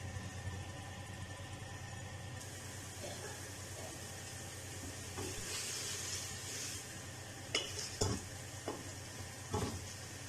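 Mutton heart pieces cook dry in a pan, giving a soft, steady sizzle with low background hum and a few sharp scraping stirs near the end, fairly quiet and close.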